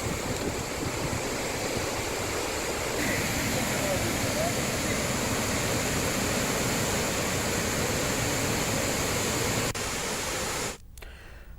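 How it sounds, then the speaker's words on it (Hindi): Water rushes out through two opened gates of the Mansi Wakal dam, filled to capacity, as a loud, steady broadband roar that holds without a break and cuts off abruptly near the end. "जल संसाधन विभाग ने बांध की भराव क्षमता पूर्ण होने पर 2 गेट खोलकर पानी की"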